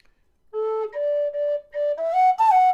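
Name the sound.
D tin whistle playing second octave A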